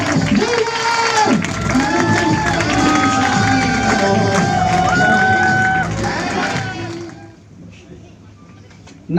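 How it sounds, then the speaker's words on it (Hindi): A crowd at a direct selling industry event in Bhopal claps and cheers for the chief guest. The noise is loud and steady under a man's loud speech and drops off sharply near the end. "जोरदार तालियां होनी चाहिए हमारे अमित कुमार सर के लिए"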